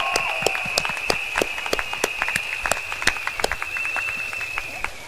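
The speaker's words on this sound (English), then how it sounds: "Shall we give them a big round of applause?" Crowd at a PAP election rally in Woodlands Stadium, Singapore, applauding steadily with sharp claps throughout, under a sustained high electronic tone, likely from the sound system.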